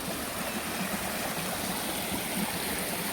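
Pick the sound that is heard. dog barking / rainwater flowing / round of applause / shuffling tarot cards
rainwater flowing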